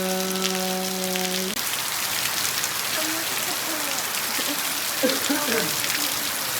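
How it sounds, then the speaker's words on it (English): Heavy tropical rain in Vanuatu pours steadily as a dense, continuous hiss of drops on surfaces, with a brief tonal hum fading early and a few faint voices or birds underneath. "When you say it's massively raining."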